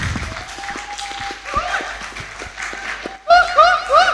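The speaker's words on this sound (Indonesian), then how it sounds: "Tepuk tangan untuk kedua penyaji." A small audience at a literary discussion gives scattered applause for two presenters, fairly close and moderate in level, mixed with voices and murmuring, with a brief gap before livelier sounds resume.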